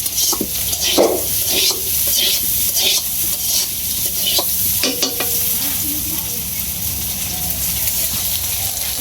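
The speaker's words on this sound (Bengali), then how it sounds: "আলু দি ভাজা হয়ে গেছে নামাই" Potatoes frying in a pan give a loud, close sizzle with repeated stirring scrapes and clinks throughout, while faint voices and festive street noise sit in the background.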